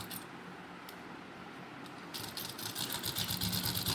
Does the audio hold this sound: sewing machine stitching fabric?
yes